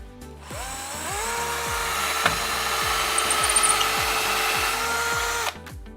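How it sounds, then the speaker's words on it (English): A power drill whirs steadily for several seconds while drilling holes to fit a window blind, rising as it bites in, with faint rubbing and clicking, then stops abruptly. "then we're ready to drill the final 2 holes."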